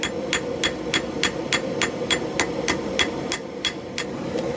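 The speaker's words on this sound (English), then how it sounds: "So, now it's time to start forging out the blade." Hammer blows forging out the blade of a cleaver from a railroad spike, about fourteen sharp, evenly spaced ringing strikes over a steady low hum, close and loud with no talk.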